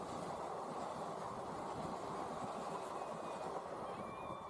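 A train rolls over the rails where a dog is stranded, a loud continuous rumble and rattle of wheels with a faint metallic squeal near the end.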